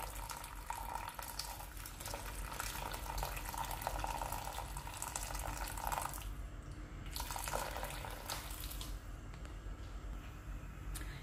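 Water runs from a tap into a cooking pot for trotters, a steady faint splashing stream that pauses briefly around halfway and then resumes, with no talking.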